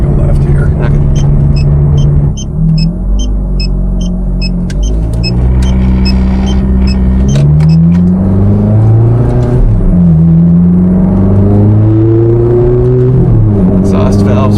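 A 2007 Ferrari F430 Spider engine revs with its exhaust valves open while driving, rising and falling in several pulls from a close cabin perspective, with talk over it.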